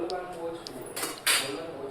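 A metal spoon clinks and rattles against dishes, a few bright scraping knocks with a sharper clatter near the end, nearby in a quiet home kitchen.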